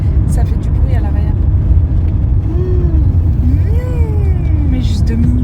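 Steady low rumble and road noise from a rented Renault Mégane SW while driving, with a persistent drone under people talking inside the car.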